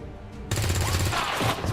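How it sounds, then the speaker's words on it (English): A trooper's gunshot rings out in XCOM 2, a single loud report followed by a brief burst of rapid fire. "Nice shot from that trooper."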